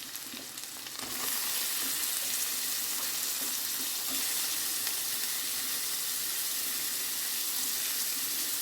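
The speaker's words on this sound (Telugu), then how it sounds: "ఇప్పుడు కాకరకాయ ముక్కలు వేసేద్దాం" Bitter gourd pieces tipped into a hot pan, the sizzle surging loudly after a second and then holding as a dense, even hiss, close and steady, no talk.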